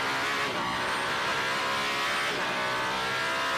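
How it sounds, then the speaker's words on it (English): An Alpine LMDH prototype race car with its own engine screams at top speed along the Mulsanne at Le Mans, a loud, sustained high-pitched engine roar that holds steady and dominates throughout. "Mick Schumacher in the number 36 Alpine is heading at top speed out of Tête Rouge and into the first chicane on Mulsanne."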